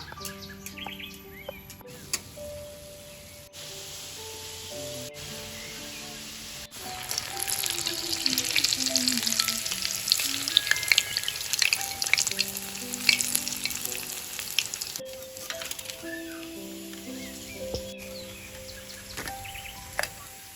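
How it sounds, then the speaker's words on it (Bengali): Egg and potato chops fry in oil with a steady, close sizzle that swells louder in the middle, with occasional stirring, while birds chirp faintly in the village background. "আমি তো এরকম করে ভাজে নিয়েছি, খুব সুন্দর করে ভাজতে হবে, একটু সময় লাগবে"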